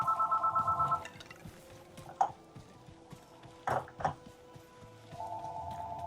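A telephone rings with a rapid trilling bell in two bursts, one at the start and another near the end, separated by quieter game sounds and a few sharp clicks.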